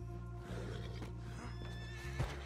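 Agitated horses in a stable in Red Dead Redemption 2 give brief whinnies and snorts with a few hoof knocks over a steady low drone, close but fairly quiet.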